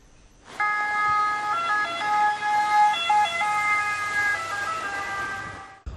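An ambulance siren wails loud and steady for several seconds, its pitch stepping slightly up and down before cutting off abruptly.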